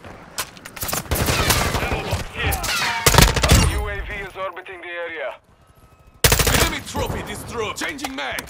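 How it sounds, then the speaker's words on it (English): Rapid automatic gunfire in Call of Duty: Modern Warfare 2, loud bursts of shots with a short pause partway through, a voice talking between the bursts. "Taking effective fire."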